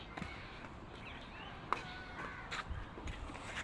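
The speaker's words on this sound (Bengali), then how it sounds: "কাক চলে আসছে ডিম ভাজা খাওয়ার জন্য" A few faint crow caws sound at a distance in an otherwise quiet outdoor setting, with a sharp knock partway through.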